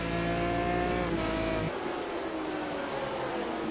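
Aston Martin GT1 race cars in the iRacing sim at Donington Park roar loudly at high revs, the engine note shifting abruptly partway through as one car passes close, with a steady droning texture throughout.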